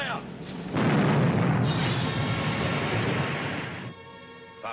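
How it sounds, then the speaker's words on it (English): A ship's cannon fires in a 1950 pirate film: a heavy boom bursts out and rumbles on for about three seconds before fading into quieter background noise. "Number one gun, fire!"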